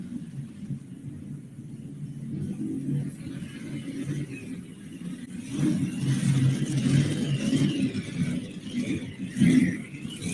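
A Case IH pulling tractor revs its engine at a Windsor, Colorado tractor pull, a deep, rumbling roar that swells and surges louder toward the end, with crowd and arena noise mixed in.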